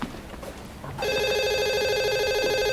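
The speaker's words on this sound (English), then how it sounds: "You expecting a phone call, Rick?" An old-style telephone bell starts ringing loudly and continuously after a quiet moment in a prison library, filling the rest of the clip without any talk.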